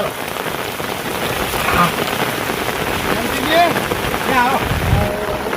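Steady heavy rain patters on a surface, loud and continuous, with faint voices and chirps mixed underneath.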